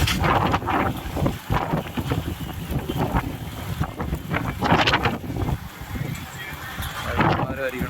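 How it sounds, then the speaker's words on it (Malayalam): Strong wind and heavy rain buffet the microphone with a steady roar and gusts in an African village, while a person talks loudly over it throughout. "ആഫ്രിക്കയുടെ ഈ കാറ്റും മഴയൊക്കെ"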